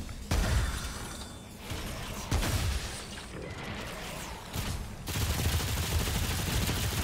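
A high-damage single-shot weapon fires in the video game Remnant 2, with several sharp, separate booming shots spaced a second or two apart amid game effects.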